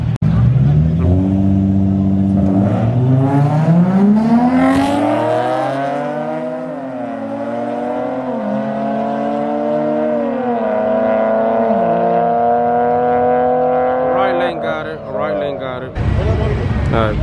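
Nissan G35 cars street racing late at night in Mexico, engines revving hard with rising and falling pitch as they accelerate and shift, loud and close, with people talking over the sound.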